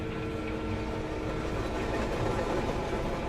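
A train runs on rails, a steady dense rumble and rattle continuing evenly throughout, close and fairly loud, with no voices.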